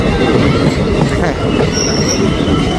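A passenger train brakes to a stop at Mohpani station in India, with steady loud rumbling of railcars and high wheel squeal throughout and no speech.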